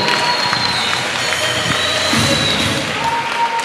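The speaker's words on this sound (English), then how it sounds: "let's give both fighters a big round of applause" A boxing crowd applauds and cheers both fighters after a six-round bout, a dense, loud wash of clapping and voices from an arena audience that continues steadily throughout.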